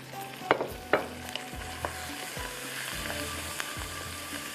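Tomatoes and spices fry in a pan with a soft continuous sizzle, broken by a few sharp scraping stirs and clinks of a utensil against the pan, heard alone without speech.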